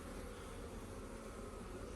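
Honeybees hum around open hive frames during colony work, a steady, dense, close buzzing that runs unbroken and alone.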